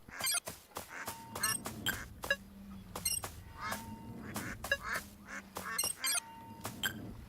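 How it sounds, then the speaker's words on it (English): Duck quacking in the audio video game A Hero's Call, repeated quacks and honk-like calls in an irregular series over a low ambient background, clear and fairly close. "Duck on West."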